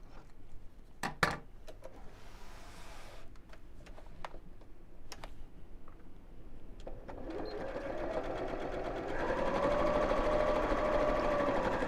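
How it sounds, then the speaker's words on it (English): A sewing machine stitches about six inches across the bottom edge of fabric on a half-yard sewing project, its motor whirring steadily and growing louder toward the end, after a few scattered clicks and taps at the start. "And then I'm going to sew across the bottom, about 6 inches across the bottom here."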